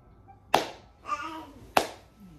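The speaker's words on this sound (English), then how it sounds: "This is called the golf clap." Two slow, soft hand claps of a polite golf clap, spaced more than a second apart and close by, with a brief voice sounding between them.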